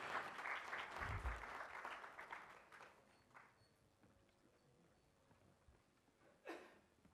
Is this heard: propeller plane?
no